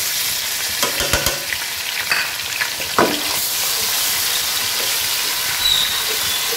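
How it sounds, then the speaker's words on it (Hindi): Garlic ginger paste frying with onions and whole spices in a pan, a steady close sizzle with a few stirring scrapes and clatters, no voices. "इसे अच्छी तरह से भून लूँगी।"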